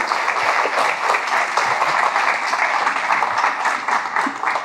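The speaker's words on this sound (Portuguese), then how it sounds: "Uma salva de palmas, por favor." An audience applauds after two guests are called to the stage at a cultural event in Porto, with steady dense clapping filling the room at close range and a few faint voices underneath.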